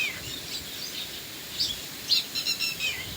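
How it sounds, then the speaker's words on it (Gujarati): Red-wattled lapwings calling around a farm, with sharp high chirps scattered through the second half over a steady outdoor hiss, fairly distant and alone without talk. "વાડીમાં ટીટોળા બોલે છે,"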